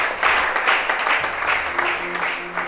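A church congregation claps together in a steady, rhythmic burst of applause, loud and continuous through the moment.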